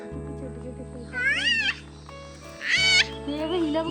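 A cat meows twice, clear and close, over a steady low mechanical hum, with a voice talking briefly in between.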